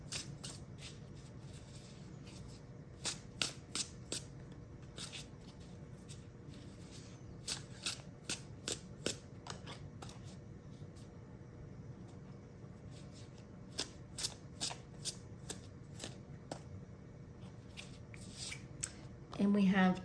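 Tarot cards shuffled and drawn during a pick-a-card reading, giving repeated crisp snapping flicks in bursts over a steady low background, with a louder rustle at the end.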